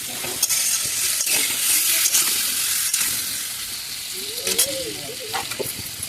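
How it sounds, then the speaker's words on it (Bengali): Pointed gourd sautés with turmeric in a pan for a Bengali dish, producing a steady, fairly loud sizzle with occasional stirring scrapes, while a voice briefly speaks underneath. "খুব ভালো করে এটা কষাবো।"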